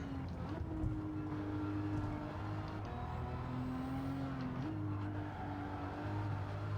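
A Toyota GR Supra RZ drifts through the Tokyo Expressway in Gran Turismo 7, with a steady engine drone whose pitch steps up and down through gear changes and a low hum running underneath.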